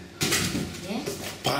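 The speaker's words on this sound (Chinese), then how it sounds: "盘子 哦，这盘子，我的碗， 你的碗， 碗具" Plates and bowls clink and clatter as they are unpacked from delivery boxes in a new home, a bright ceramic rattle in two bursts, with people talking throughout.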